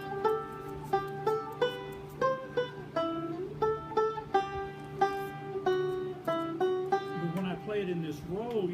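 Grandfather's Clock picked melody-style on a single string of a stringed instrument, plucked notes stepping up and down in an even, unhurried rhythm, close and clear with no talking, ending in a ringing fade.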